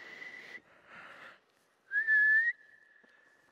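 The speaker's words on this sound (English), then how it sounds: "I must blow the whistle so the goalie can reset and get ready" Referee's whistle blown at an ice hockey rink during goalie practice: several short tonal blasts, then a sharp loud trill that holds steady and trails off, clear and close with no talk.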